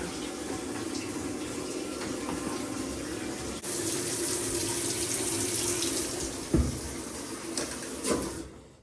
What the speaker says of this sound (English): You fill the washer with a little bit of water